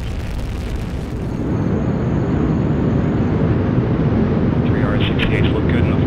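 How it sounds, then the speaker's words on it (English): A Delta IV Heavy rocket lifts off carrying NASA's Parker Solar Probe with a loud, continuous, broadband roar that swells after the first second and holds steady. "Liftoff of the mighty Delta IV Heavy rocket with NASA's Parker Solar Probe"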